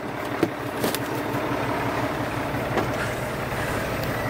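A 2010 Kenworth T660 semi truck with a Cummins ISX 15 diesel rated at 400 horsepower idles steadily, a low, even rumble with a couple of faint clicks near the start.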